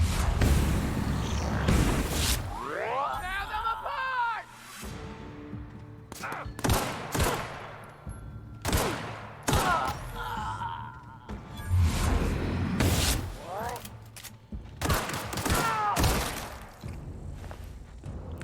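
Gunfire in the video game The Outer Worlds: repeated loud shots and bursts crack out in clusters across the whole stretch, with sharp impacts and occasional thuds between them.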